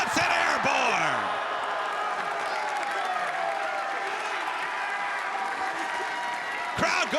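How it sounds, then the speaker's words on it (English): A professional wrestling crowd at a Ring of Honor match roars and cheers wildly for wrestler Lee Johnson, a loud sustained wall of yelling and whoops with scattered applause, a commentator's voice riding over the din. "Crowd going absolutely wild for Lee Johnson"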